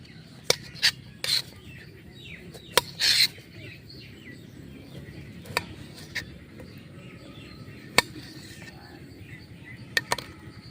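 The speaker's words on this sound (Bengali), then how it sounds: "তো আমি এখন লেবুটা কাটছি।" A knife cuts a lemon on a board as part of tomato masala preparation, giving sparse sharp taps and short crunchy slices, close and isolated against a quiet background.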